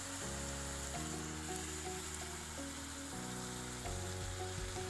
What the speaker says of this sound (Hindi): अब हम इसमें डालेंगे चावल।